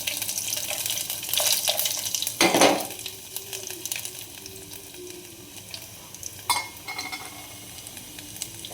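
Garlic dropped into hot oil in an Indian kitchen pan gives a sudden burst of sizzling, then a steady quieter crackle with brief stirring clatters; no one speaks.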